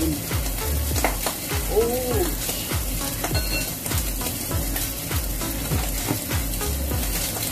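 Hot oil spatters and sizzles loudly in a pan while food fries for Thai paper roll noodles, with steady crackling, rhythmic stirring scrapes and a brief startled exclamation from a cook.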